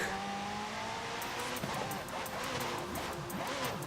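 Game car in Forza Horizon 5 sliding through a handbrake drift, a steady engine roar with scrappy tire squeal and rapid clicking ticks building toward the end, loud and continuous with no talking.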